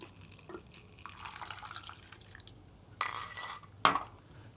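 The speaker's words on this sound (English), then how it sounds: "We're going to pour it through our V60" Brewed coffee is poured through a V60 paper filter: a soft trickle of liquid gives way to two louder splashing bursts near the end, close and clear with no talking.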